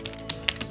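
Computer keyboard typing by a hospital admin entering patient details: a quick run of light, close key taps at an uneven rhythm, with no voices.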